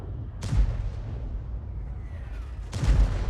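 Two heavy booming shots from a Conqueror Gun Carriage tank destroyer's gun in a tank combat video game, each a deep loud blast with a rumbling tail, about two seconds apart over a low engine drone.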